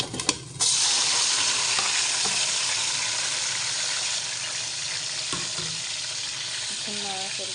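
Chicken liver hits hot oil after fried onions, setting off a loud sudden sizzle that continues steadily and close up with occasional stirring clinks.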